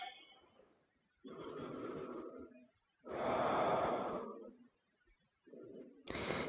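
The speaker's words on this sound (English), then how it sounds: "Just take some breaths." Slow, deep breaths during a yoga session, with long inhales and exhales alternating in a steady rhythm between quiet pauses, close and soft, with no talk.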